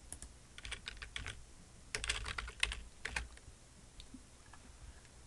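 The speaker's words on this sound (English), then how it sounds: "So I'll type it down here so you can see it." Someone typing on a computer keyboard, with quick bursts of close, crisp key clicks in irregular clusters and brief pauses, fairly quiet and without any talking.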